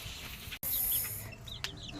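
Chickens cluck softly in a coop at a rural home, a few brief calls close by over steady background hiss, with no voices.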